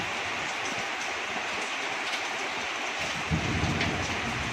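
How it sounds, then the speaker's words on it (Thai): Steady rain pours down in a dense, even hiss, growing slightly heavier toward the end, with no voices. "ท่ามกลางบรรยากาศฝนตก"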